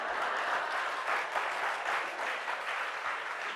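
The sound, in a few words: audience clapping at a satsang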